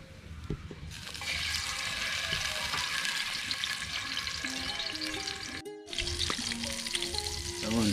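Crayfish frying in a pan for a spicy coconut-milk dish, a steady loud sizzle that starts abruptly and holds, briefly cut off near the end, with clinking kitchen sounds underneath.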